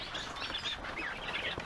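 Roulroul partridges in an aviary give soft chirps and tweets over a steady, fairly quiet background hiss, several short calls scattered across the moment with no speech.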